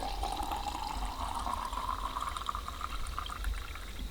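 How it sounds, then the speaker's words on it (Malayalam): Raw mango juice punch poured into a glass, a steady liquid stream with a rising fill tone, close and fairly quiet, with no talk. "അപ്പം നമ്മുടെ റോമാങ്കോ പഞ്ച് പച്ചമാങ്ങ ജ്യൂസ് നമ്മുടെ ഗ്ലാസ്സിലേക്ക് ഒഴിക്കാം."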